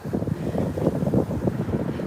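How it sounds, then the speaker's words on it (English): Steady wind buffeting the microphone with a low rumbling roar on a sunny day in Mount Vernon, Baltimore, gusting unevenly throughout, no voices. "is a windy day in Baltimore"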